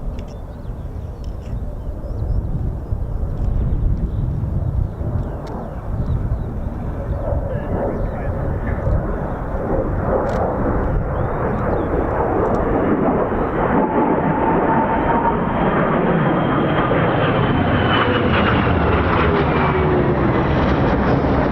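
An F-35B stealth fighter jet of the naval air squadron flies past an air base, its loud, roaring engine noise building steadily with a rising whine, while people talk nearby.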